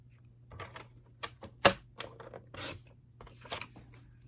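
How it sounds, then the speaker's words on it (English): Sheets of patterned craft paper are cut into a two-inch square with quiet, intermittent snips and slicing strokes, including one sharp cut, in an otherwise hushed room. "So I'm also going to cut it 2 inches."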